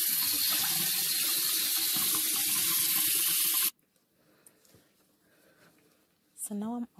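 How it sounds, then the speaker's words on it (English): Water runs from a bathroom sink tap in a steady, loud broadband rush, then cuts off abruptly partway through, leaving a quiet room with faint handling sounds and a brief voice near the end. "Now I just have the water running in the sink"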